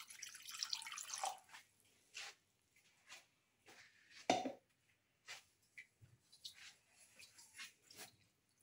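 Two cups of water being poured into a cooking pot while a chickpea rice casserole is made, with faint splashing and dripping in irregular bursts and one louder splash partway through, with no talking.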